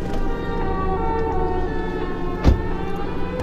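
Siren Head monster from a video game wails a sustained, layered siren tone with steady harmonic bands, continuous and moderately loud throughout, with a brief low thump near the middle and no talking.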